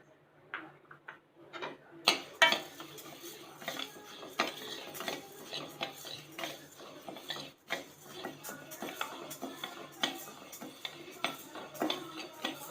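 Split moong dal dry-roasting in a pan over a moderate flame, heard as a steady run of light rattling, ticking clicks and scraping as the lentils are stirred, close and moderately loud, with no talking.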